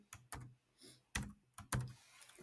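A few separate keystrokes on a computer keyboard while a spreadsheet formula is entered, about six crisp, close clicks spaced irregularly with quiet gaps between them.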